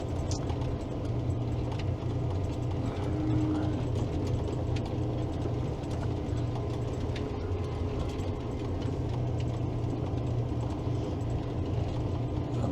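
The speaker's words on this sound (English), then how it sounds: "Can you guys hear the engine and the transmission shifting?" The engine of a snowplow clearing snow in the dark drones steadily, with mechanical gear and ratcheting sounds from its transmission shifting, continuous and fairly loud without talk.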